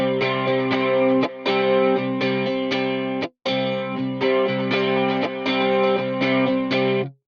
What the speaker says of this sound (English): that's kind of like a delay and reverb all together with the pop guitar finisher here